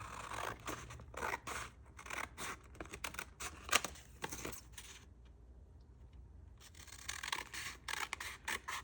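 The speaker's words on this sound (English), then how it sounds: "I'm going to grab my scissors and get the trimming" Scissors snip through paper scraps in a series of quick, close, crisp cuts, with a short quiet pause partway through before the snipping resumes.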